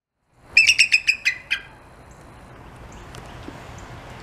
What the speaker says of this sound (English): Is that what you expected the bald eagle to sound like?